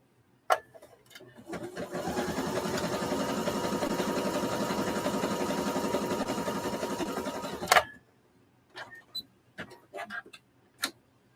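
Sewing machine stitching a test line while balancing thread tension, a steady close mechanical whir lasting several seconds after an initial click, followed by scattered small clicks and taps as it stops.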